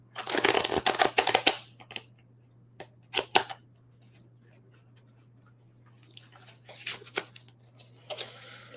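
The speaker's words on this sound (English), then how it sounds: "Let me shuffle my cards for a bit" A deck of cards is shuffled in quick papery bursts with pauses between, close and fairly quiet over a steady low electrical hum.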